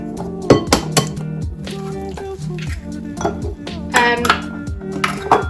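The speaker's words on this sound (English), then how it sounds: "I'm just going to quickly whisk it through and kind of cool it down a little bit" A hot mixture is whisked in a large bowl: a whisk clinks and rattles against the bowl in fast irregular bursts with ringing metallic pings, close and fairly loud, with some faint background sound.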